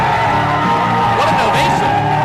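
A wrestling arena crowd roars in a loud, sustained ovation, cheers and whoops blending into a dense wall of noise.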